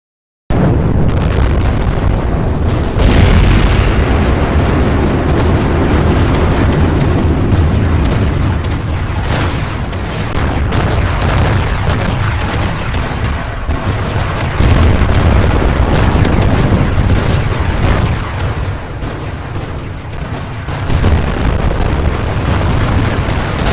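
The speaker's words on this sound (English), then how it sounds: "All the remaining ships open fire on her at the same time." Several warships fire their cannons at once, a dense, continuous barrage of heavy booms and explosions that rolls on loudly without a break.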